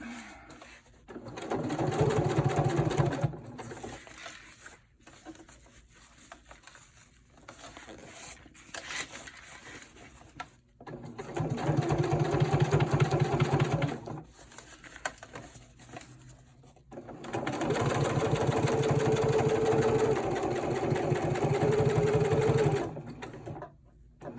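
A sewing machine stitching a French seam on a cloth diaper runs in three loud, close bursts of rapid rhythmic whirring, separated by quieter pauses with light handling of fabric.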